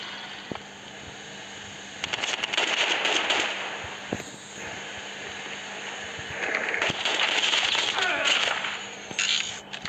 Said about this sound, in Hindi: गाइस ये देखो, दो दो गन शॉट्स आ रहे हैं यार